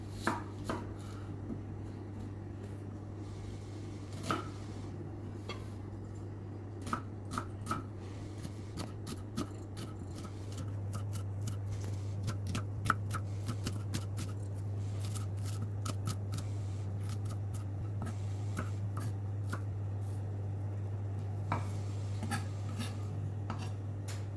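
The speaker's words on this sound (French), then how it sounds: "On commence par couper les oignons." Onions being cut with a knife on a board, a long series of crisp chopping taps in irregular rhythm, close and clear over a steady low hum, with no talk.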